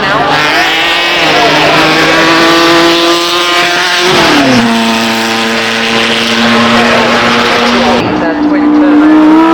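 A loud, close twin-turbo race car drives at the Goodwood Festival of Speed, its engine holding a strong, steady note with two clear gear shifts where the pitch drops and climbs again.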